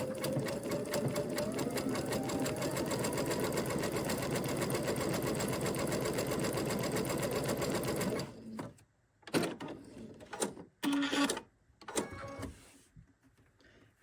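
A sewing machine running zig zag stitches for an appliqué, a steady rapid mechanical whir for about eight seconds, then short stop-start bursts of stitching, close, no talk.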